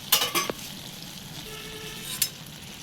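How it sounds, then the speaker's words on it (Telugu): Brinjal and tomato pieces fry in a pan for a brinjal and chana dal masala curry, giving a steady low sizzle with a few sharp utensil clatters near the start and one more toward the end. "టమాటా ముక్కలు వేసి 2 మినిట్స్ అయితే మగ్గనిచ్చి మంచిగా ఫ్రై చేసుకుందాం"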